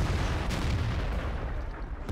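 A tank gun booms in World of Tanks from a Rheinmetall-Borsig Waffenträger tank destroyer. The heavy, rumbling battle sound runs throughout, with sharper blasts near the middle and the end.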